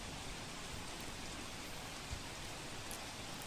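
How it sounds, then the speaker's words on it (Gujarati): Heavy rain pours down on a flooded GMDC Ground in Ahmedabad in a dense, even hiss, steady and unbroken from start to finish with no voices. "અમદાવાદમાં ધોધમાર વરસાદ"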